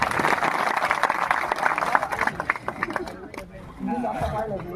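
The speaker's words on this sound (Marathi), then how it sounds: "गुणीजनांसाठी एकदा जोरदार टाळ्या." An audience at a Harinam Saptah religious gathering claps vigorously for about three seconds. The applause then thins out as a voice begins speaking over the tail of it.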